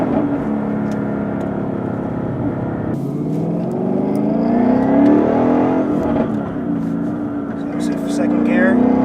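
A supercharged 2017 Ford Mustang fitted with a Roush Stage 3 kit pulls hard in second gear, its engine note climbing steadily in pitch and loudness from inside the car, with a voice talking over it.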